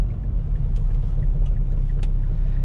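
A modified Mazdaspeed 6 with a fully built engine and PTE 6062 turbo idles or cruises, a deep steady low rumble with a few faint higher clicks on top, loud and close with no talking.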